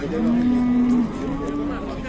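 A single long, low moo from a cow, followed by a softer second call, with background chatter of the crowd at a livestock market in Alay, Kyrgyzstan.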